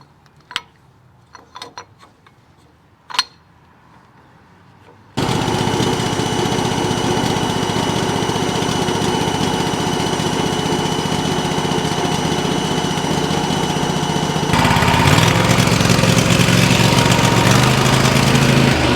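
A PK12000 machine powered by a Kohler Command 25 HP engine is heard. After a few light clicks and knocks, the engine roars to life and runs steadily and loudly, then gets even louder near the end.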